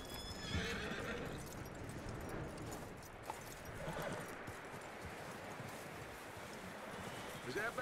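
Horse in Red Dead Redemption 2 clopping and whinnying, a faint continuous hoof rhythm with a neigh, mixed under speech.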